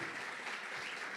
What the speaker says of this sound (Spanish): Fuerte ese aplauso para Maya Garay.